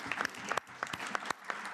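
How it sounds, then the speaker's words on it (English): Audience at a political conference panel on workers' right to disconnect gives a short round of applause: quiet, distant clapping from a modest crowd in a hall. "a round of applause for all our speakers"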